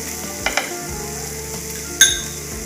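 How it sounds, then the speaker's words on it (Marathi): Masala paste for a fish fry sizzling in about a cup of oil in a pan while being stirred, a steady close frying hiss broken by a few metal clinks of the spoon against the pot, with no talking. "वाटणात आपण 1 कप भरून तेल टाकलेलं आहे आणि सतत हलवत राहून छान परतलेलं आहे"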